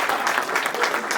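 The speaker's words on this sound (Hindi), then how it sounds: "बहुत इस पर एक बार जरा जोरदार तालियां बजाइए" Audience at a Hindi poetry recital clapping loudly in a brief, continuous burst, close and dense from start to finish.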